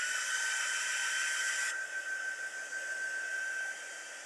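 A handheld heat tool blows a loud, close, steady rush of hot air with a high whine while drying a faux watercolor card, the airflow shifting in tone midway and easing slightly near the end, with no talking.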